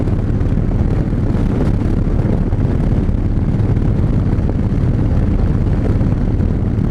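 Harley-Davidson Fat Bob motorcycle cruising down a road past vineyards, a steady loud engine rumble mixed with heavy wind buffeting the microphone, continuous throughout with no talk.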